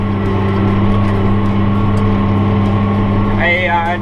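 A loud tractor engine idles nearby with a steady, droning hum and a constant low rumble, running unbroken throughout the whole clip.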